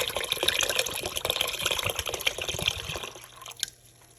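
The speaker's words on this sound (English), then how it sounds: "let me add 2 cans of water" Water pours steadily into a pan for a seafood mac and cheese, a close, continuous gushing fill that breaks off near the end into a brief trickle and a faint clink.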